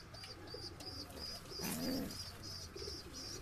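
Breeding pair of high-flying pigeons in a loft, sitting on eggs, giving soft repeated coos near and clear, with a swelling call in the middle over light background noise.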